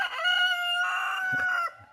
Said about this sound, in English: Chickens won't shut up.